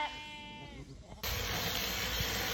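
Sheep and lambs bleat on a Peak District farm after shearing, a dense, loud, overlapping chorus of calls close by.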